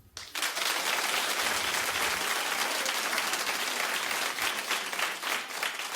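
Studio audience on a daytime talk show bursts into loud, sustained applause that starts abruptly and holds steady with dense clapping throughout, no voices on top.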